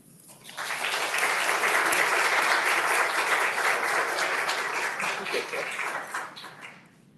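An audience at an art forum at a school of creative arts and media bursts into applause to welcome a speaker, swelling quickly into full, steady clapping that holds for several seconds before tapering off.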